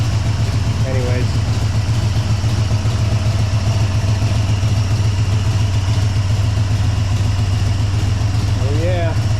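An old car engine idles loudly with a steady, slightly lumpy throb, while a voice speaks briefly near the start and end.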